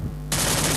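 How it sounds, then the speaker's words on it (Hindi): Sudden loud burst of automatic gunfire in a competitive shooting video game match, breaking in abruptly after a brief low rumble and continuing dense to the end. "तो पिंडी भाई फायर करते"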